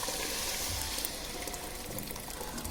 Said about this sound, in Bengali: পরিমাণ মতন পানিটা দিয়ে দিলাম